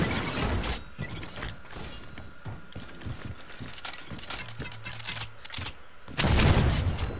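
Video-game gunfire as two players shoot each other, a quick burst of shots at the start, sparse clicks and mechanical reload sounds in between, then another loud burst near the end.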